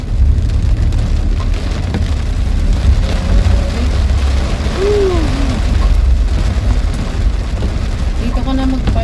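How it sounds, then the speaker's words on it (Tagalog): Rain pours down hard during flooding that has turned a street into a pool, a loud, constant roar of water with deep rumbling underneath, while voices speak faintly in the background. "Ulan na to."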